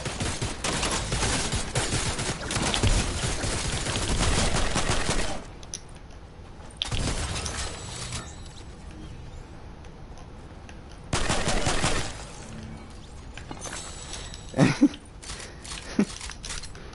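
Rapid bursts of gunfire in the Fortnite video game, two dense volleys of shots with quieter gaps between them and a few isolated sharp cracks near the end, with no talk.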